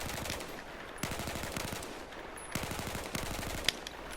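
M16 rifle fire in Battlefield 4, crouch-shooting: repeated rapid bursts of automatic shots in tight rhythmic clusters with short pauses between, fairly quiet and close, no talking.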